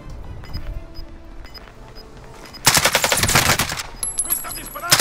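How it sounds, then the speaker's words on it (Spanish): Machine gun fire in a video game island match, with scattered shots at first, then a loud, rapid sustained burst of automatic gunfire in the second half, close and dense. "¡Me están disparando!"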